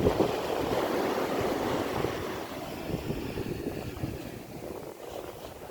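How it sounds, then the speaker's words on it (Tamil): Sea waves at Kovalam beach roll in as a steady, loud wash of surf with wind buffeting the microphone, continuous and close, with no voices. "கடல் கடல் கடல்"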